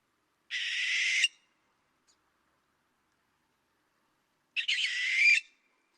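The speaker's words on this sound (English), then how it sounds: "So you guys probably heard this sound around your neighborhoods of the barn owl." A barn owl gives two harsh, hissing screeches about four seconds apart, each lasting nearly a second, loud and close with silence around them.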